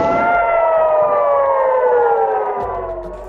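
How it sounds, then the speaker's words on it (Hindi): Air raid sirens sound in Kiryat Shmona during a Hezbollah rocket attack in July 2024, a loud, sustained wail that slowly falls in pitch and fades slightly at the end, with no voices. "इस इलाके में हवाई हमलों के सायरन बज उठे"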